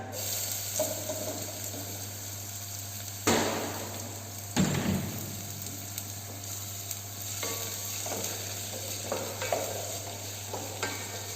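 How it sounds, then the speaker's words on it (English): Chopped onion dropped into hot oil with cracked cardamom sizzles steadily for the whole stretch, with two louder bursts of hissing and stirring near the start, then a continuous close, crackling fry with no voices. "When the cardamom cracks, then add chopped onion."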